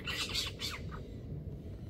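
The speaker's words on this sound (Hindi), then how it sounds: "उसी पेड़ पर उल्लू बैठा हुआ है और चिल्ला रहा है" An owl perched in a tree at night near a campsite in India gives two or three harsh, screeching calls in quick succession, then falls quiet against a low background hum.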